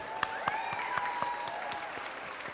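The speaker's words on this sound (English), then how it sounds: "Let's give ourselves a round of applause." Sparse, rhythmic clapping from a small group at a college convocation, individual claps distinct, with a faint tonal hum in the background.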